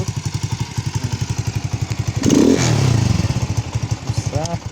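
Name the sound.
moped engine running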